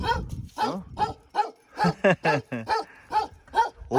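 A dog barks on a Himalayan mountain trail near a lodge, giving a series of sharp, loud, fairly close barks in an irregular rhythm with no speech over them.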